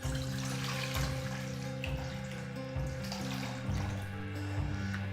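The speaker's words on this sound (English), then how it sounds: "Pour some water in the bowl." Water pouring into a bowl for soaking a kokedama moss-ball plant, a steady running splash close by with low hum underneath, no talking.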